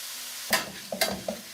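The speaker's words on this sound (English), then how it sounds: "Then leave the meat to cook on one side to make it fragrant." Minced pork and garlic frying in a pan, a few sharp sizzling bursts as the meat hits and shifts in the hot oil.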